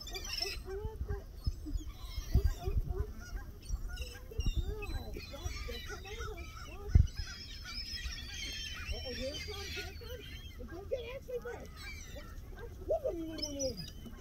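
Canada geese honking at a distance, scattered calls over outdoor ambience and wind, with a person talking now and then.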